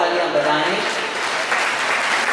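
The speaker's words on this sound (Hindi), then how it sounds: "आप सभी जोरदार तालियां बजाएं" Audience of devotees at a religious discourse gathering claps in loud, dense, sustained applause, with voices mixed in underneath.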